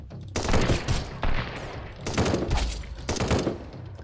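An upgraded gun fires rapidly in the video game Sunkenland, dense bursts of fast shots in three or four volleys separated by brief pauses, loud and close.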